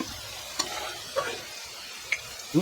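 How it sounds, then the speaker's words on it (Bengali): Beans and carrots stir-fried together in a pan, a soft sizzle under a few distinct ladle clinks and scrapes spaced about half a second apart, nearby and without speech. "এবার আমরা বিনস গাজর একসঙ্গে দিয়ে ভালো করে ফ্রাই করে নেব"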